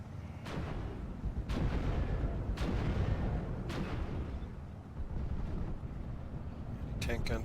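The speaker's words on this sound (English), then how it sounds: "Tank gun starting to make its presence felt" Tank guns firing in the World War II strategy game Steel Division 44, battling over Omaha: several heavy booms spaced a second or so apart, rolling over a constant rumbling battle din, with someone talking.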